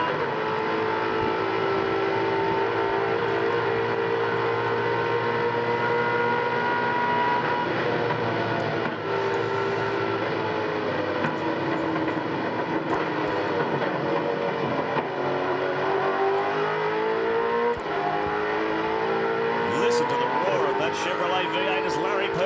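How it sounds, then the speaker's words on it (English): Chevrolet V8 race car engine at Bathurst, the 2001 Bathurst 1000 on the mountain circuit down Conrod Straight, a loud sustained roar with shifting tonal harmonics as the car closes on another, heard alone without talk throughout. "Chevrolet V8 as Larry Perkins closes in on the back of Tony Longhurst"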